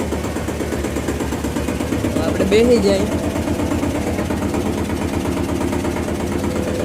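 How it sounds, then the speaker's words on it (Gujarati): A tractor engine idles with a steady, even chug close by, while someone talks briefly over it. "તો મિત્રો ટ્રેક્ટર ચાલુ કરી દીધું હે"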